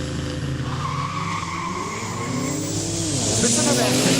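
An all-wheel drive Porsche Macan launches at a no-prep quick street drag racing day, its engine note loud and rising steadily over a few seconds alongside tyre noise, with people talking nearby.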